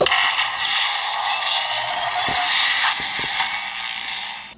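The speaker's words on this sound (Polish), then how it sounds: "to brzmi jak dźwięki z takiego trailera, wiecie, w kinie" A toy's push button plays a cinematic trailer-style effect: a sustained, dramatic droning tone with creaking, ratcheting mechanical textures and a few soft hits, ending in a sudden cutoff.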